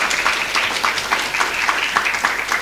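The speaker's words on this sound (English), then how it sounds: "applause, thank you." Audience applause at a university humanities and education student awards ceremony, loud and close, with individual claps pulsing through a steady crowd of clapping hands.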